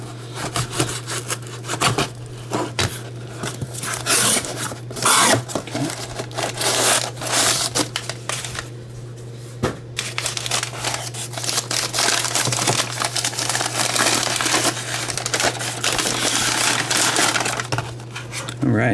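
A cardboard box holding an Aeroclassics Northwest DC-9-50 model airplane is cut open with a blade, with continuous scraping, crinkling and rubbing close up, punctuated by sharp taps, over a steady electrical hum.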